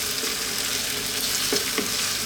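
Chicken and bacon in a cream sauce sizzle steadily in a pan, a loud continuous frying hiss broken by a couple of soft stirring scrapes.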